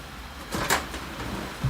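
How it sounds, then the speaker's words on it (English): The front door of an HP Envy Photo 7275 printer opens with a soft plastic swish and click, followed by a low thump, close and moderately loud, with no talking. "Following the instructions, you need to open the front door and lift up the"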